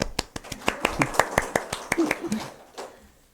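A small church congregation claps for a pastor who planted the church, sharp individual claps coming at a steady beat, then thinning out and fading toward the end.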